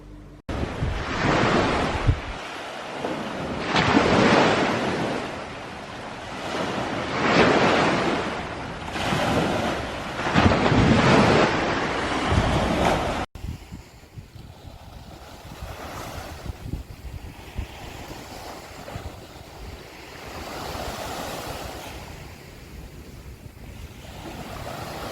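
Sea waves roll in and break on the shore in repeated surging washes, while strong wind buffets the microphone; the surf is loud at first, then drops to a softer, steady roar.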